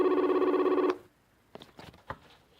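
A telephone rings with a loud, rapidly trilling electronic bell for about a second, then cuts off, leaving a few faint clicks and handling knocks in a quiet room.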